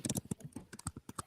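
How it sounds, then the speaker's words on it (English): Quick clicks of a computer keyboard being typed on, a rapid irregular patter of close keystrokes with no talking. "I can hear typing and everything."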